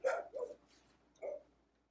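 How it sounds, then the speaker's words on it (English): A dog kept outside barks in short yips, two quick ones and then a third after a pause, faint and somewhat distant, over an otherwise quiet background. "I didn't think it was gonna be so loud, her barking, so I just ignored it."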